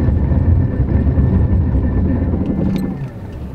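A four-wheel-drive vehicle brakes hard from 45 mph on a winter road, a loud, steady low rumble of engine and tire noise that eases off near the end, with no talking.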